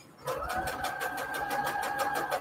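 Sewing machine stitching fabric onto index cards under foot-pedal control, a steady, close mechanical whir with a fast regular pulsing beat that holds for the whole stretch.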